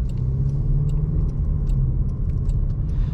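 Inside a 2022 Jaguar XF R-Dynamic SE set to dynamic mode, a low, steady engine and road rumble fills the cabin with faint scattered clicks on top, no voices present.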